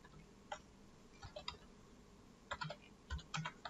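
Keys on a computer keyboard click in short, quiet bursts as an SQL query is typed, with brief pauses between the clusters of keystrokes in an otherwise hushed room.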